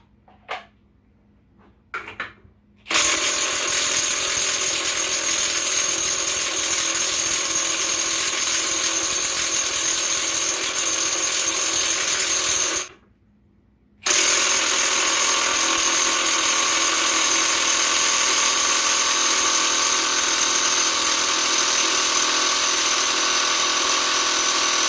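An air impact gun runs against a stubborn nut during equipment repairs, giving a loud, close, steady high whine for about ten seconds, then a brief pause, then another long sustained run.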